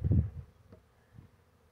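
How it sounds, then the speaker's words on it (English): A honeybee swarm buzzing close by, with a dense burst of low droning at the start that quickly thins to a fainter, scattered hum. "Now they're starting to buzz around."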